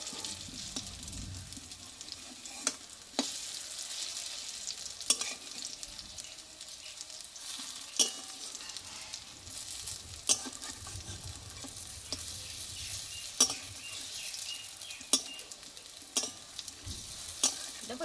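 Lentil fritters frying in oil in a pan, a soft continuous sizzle close by, broken every few seconds by sharp clicks and scrapes as they are turned, no talking.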